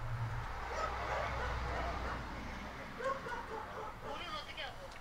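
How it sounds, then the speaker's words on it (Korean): A dog barks repeatedly at a caravan campsite, somewhat distant under steady background noise and nearby voices. "개가 너무 짖어"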